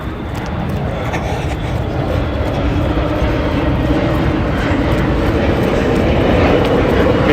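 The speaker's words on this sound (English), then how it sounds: "be a lot of plane traffic this morning" An airplane taking off from a nearby runway on a Sunday morning, a loud, sustained engine roar that holds steady and slowly swells, with no voices over it.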